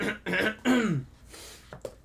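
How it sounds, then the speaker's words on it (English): A sick person with a sore throat gives a few rough, close coughs and throat-clearing rasps in quick succession, followed by quieter breaths and a couple of short hacking bursts. "I'm sorry about the coughs."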